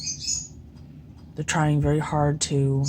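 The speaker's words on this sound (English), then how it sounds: "I'm very sorry about the birds." Pet birds chirping inside a house, giving high bright calls alone for the first half second before a person starts talking over them.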